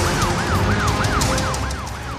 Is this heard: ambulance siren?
yes